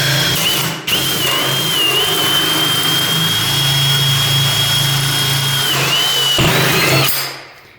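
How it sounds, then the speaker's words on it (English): A 54 mm hole saw bores through a door, a loud, steady drill whine with a sustained grinding tone that dips briefly midway, stops, restarts, then winds down. "what I'm using is a 54 mil hole saw"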